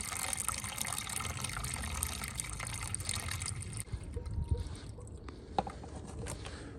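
Coolant glugs and splashes as it is poured into a heater core bypass on a Chrysler PT Cruiser, a steady close pour that stops partway through and leaves scattered drips and small knocks.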